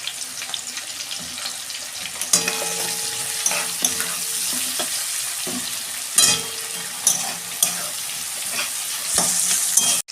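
Vegetables frying in ghee in a pan sizzle steadily up close, broken by repeated clattering scrapes and knocks of a spoon stirring them, with no one talking.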